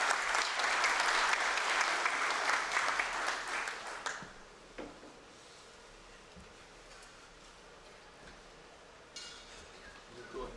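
An audience at a formal award ceremony bursts into applause, clapping strongly for about four seconds before abruptly fading to a quiet room with faint rustling and a few stray claps.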